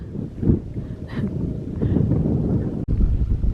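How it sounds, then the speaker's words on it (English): Strong wind buffets the microphone atop Jacob's Ladder in the Peak District, a loud steady roar with gusts, no voices. "You know when you've reached the top of Jacob's Ladder because the wind hits you"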